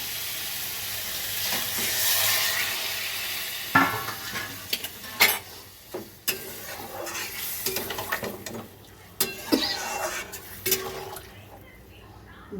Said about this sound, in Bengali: এইবার আমি এর মধ্যে জল দিয়ে দেবো।